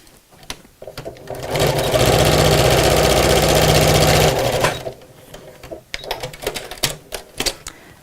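A sewing machine stitches a seam on a laminated fabric messenger bag, whirring loudly for about two and a half seconds, then falls to scattered clicks and fabric handling.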